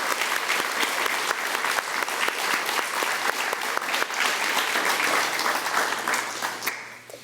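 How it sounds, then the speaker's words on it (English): A school audience applauds the Wall of Fame plaque recipients, a sustained round of dense clapping from a sizable crowd that holds steady before tapering off at the end. "let's give everyone tonight receiving a plaque for the Wall of Fame a round of applause for their hard work"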